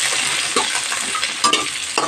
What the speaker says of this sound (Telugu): పల్లీలు, శనగపప్పు వేగాలి.